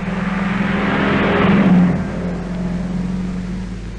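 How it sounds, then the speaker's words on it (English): A Rapier rally car crewed by Scott and Hopkirk climbs the Vivione mountain pass in the Alps, its engine droning steadily and swelling to a louder rev midway before settling back, heard alone without voices. "But Rapier teammates Scott and Hopkirk blaze a trail for others as their car winds its willing way to"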